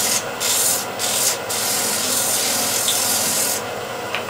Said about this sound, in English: grab a 120 grit sandpaper and just sand